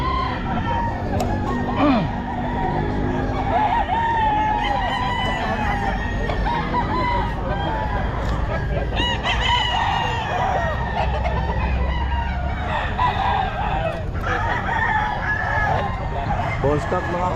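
Roosters crow repeatedly amid a busy pet market in Bocaue, their calls rising over constant crowd chatter, clucking fowl and general bustle, with people talking throughout.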